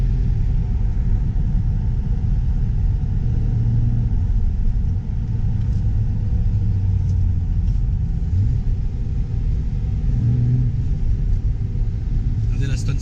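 An Aston Martin Vantage on the move gives a constant low engine and road rumble, heard from inside the car while someone talks over it.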